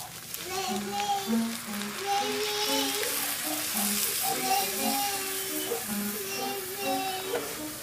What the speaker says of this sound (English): you want to kind of cover the meat with the milk, and then you really got to stir and press hard on the bottom of the pan